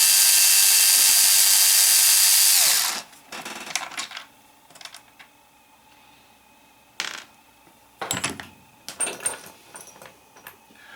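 Metal parts being screwed onto a Heng Long Leopard 2 A6 RC tank during a metal upgrade, heard as a burst of loud whirring followed by scattered clicks, rattles and small metallic clatters in a quiet room.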